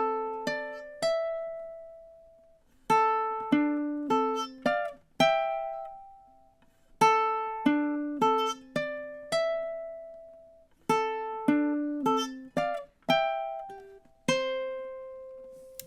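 A ukulele slowly plucks the opening melody of the MASH theme, with clear separate notes in phrases and short pauses between them, alone and fairly quiet.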